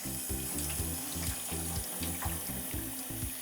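Tap water runs steadily over a squid body being washed, a close, even splashing stream with faint handling clicks and rubbing, and no voices.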